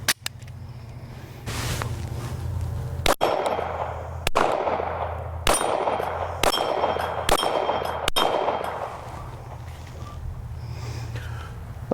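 Glock 48 pistol fired at steel plates 12 yards away, around seven sharp gunshots in an irregular sequence, each followed by a ringing metallic clang off the steel, loud and close with no talk.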